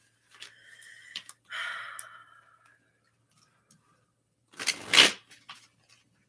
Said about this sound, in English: Okay, one more shuffle down,